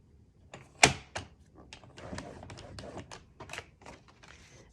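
Paper is scored for a scrapbook album page with a tool on a scoring board, giving a sharp close click followed by a run of light taps, scrapes and thumps, with no talk.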